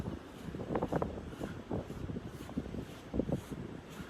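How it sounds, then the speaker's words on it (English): Gusty wind on a beach at Pawleys Island at sunrise, buffeting the microphone in uneven rumbling bursts as someone walks straight into it, with no voices over the roar. "I'm walking straight into the wind"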